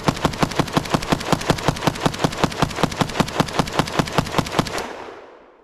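A KUSA KR-103 rifle fires a fast, evenly spaced string of roughly two dozen loud, close gunshots, each sharp crack rolling into the next before the echo fades away.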